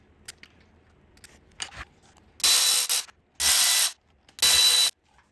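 A hand ratchet working on the 10mm thermostat bolts of a Porsche Boxster 986 engine. A few faint clicks come first, then three loud, close bursts of rapid ratcheting, each about half a second long, separated by short pauses.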